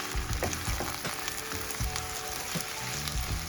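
Red peppers sizzle and fry in a pan while ackee and saltfish is being cooked, a loud, continuous crackle with occasional stirring knocks and no talking.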